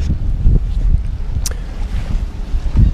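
Wind gusting across the deck of a Bavaria sailboat, a steady low buffeting rumble with a few stronger surges, close to the microphone and with no voices.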